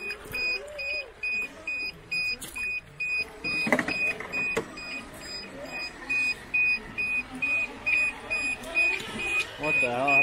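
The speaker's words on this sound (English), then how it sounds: "My low voltage alarm." Repeated electronic beeping from the low voltage alarm on an RC vehicle in Death Valley, a steady train of short pulsed tones running throughout with voices talking over it.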